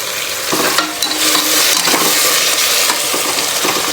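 Vegetables fry over a low flame in a pan for tomato bath, a loud, busy sizzle under repeated scraping stirs and short clattering knocks of the spoon against the pan.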